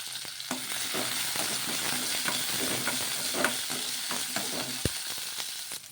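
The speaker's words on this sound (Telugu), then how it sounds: "నూనె వేడెక్కిన తర్వాత అందులోకి ఒక స్పూన్ అంత జీలకర్ర ఒక పది వెల్లుల్లి రెబ్బలు కూడా వేసుకోవాలి" Cumin seeds, garlic cloves and green chillies sizzling in hot oil in a pan for moong dal idli, a steady close frying hiss with small crackles and occasional spoon stirring.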